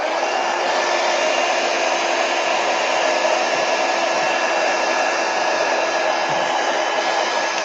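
A hair dryer blows steadily at close range over barely damp muslin fabric, a loud continuous whoosh with a faint motor whine that holds unchanged from start to finish, with no voices.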